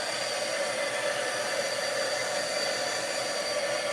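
A hair dryer blows a steady, loud rushing stream of air, drying wet craft pieces at close range without a break, and no voices come through over it.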